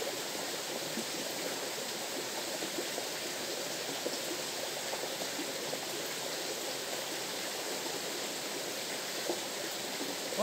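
A stream, murky after rain, flows with a steady, dense rushing hiss that stays constant and close throughout, with no voices.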